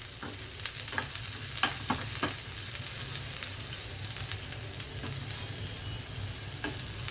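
Chana dal and onion slices sizzle steadily in hot oil in a pan while a spoon stirs them now and then with soft scraping clicks. There is no talking.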